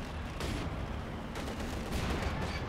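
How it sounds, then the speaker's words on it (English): Mortar shells land all around a Company of Heroes 2 battlefield, with sharp close blasts that roll into rumbling, continuous explosions and leave no gap of quiet. "Nice mortar hits all around."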